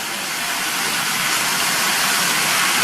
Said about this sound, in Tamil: கட் பண்ணி வச்ச கீரையை இதில் சேர்த்து இந்த கீரையையும் எண்ணெயிலேயே நல்லா 1 நிமிஷத்துக்கு வதக்கிக்கங்க